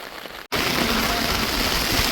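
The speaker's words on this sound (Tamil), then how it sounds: "மழை ஏண்டா வெளுத்து வாங்குது" Heavy rain pours down in Jaffna amid gusty wind, a loud dense steady hiss that drops out for an instant near the start, then returns at full strength with no talk.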